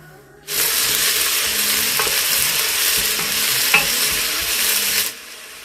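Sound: onion frying in hot oil after mustard seeds

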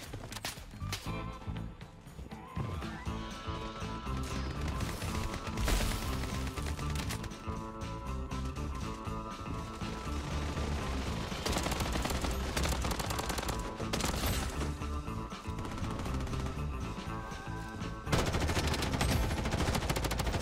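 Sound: SCAR rifle gunfire in video game Bloodstrike

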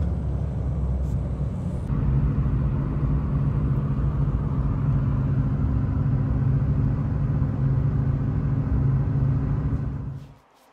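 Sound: Lotus Elite engine running rough

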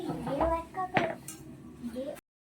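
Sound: covering the paneer pot with a lid

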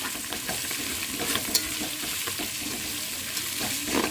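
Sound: stirring mint and coriander into frying curry

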